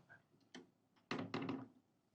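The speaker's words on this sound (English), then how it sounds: "So when I close this door, this cabin becomes extremely quiet." An Azimut yacht cabin door swings shut and seals against its gasket: a light tap, then two heavy, muffled thuds close together, followed by a quiet room.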